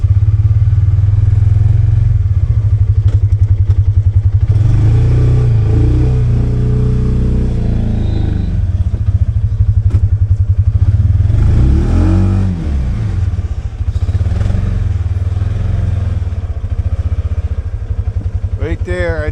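A Trail Rider 570 UTV on Sunf tires drives off-road in four-wheel drive, its engine droning steadily close by with rising revs and rattling clatter, while people talk over it.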